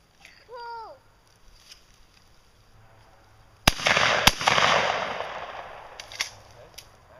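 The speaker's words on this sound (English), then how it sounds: "Good shooting, Claire." A shotgun fires at a clay target, a sharp loud blast followed by a second crack and a rolling echo that fades outdoors, preceded by a shouted voice.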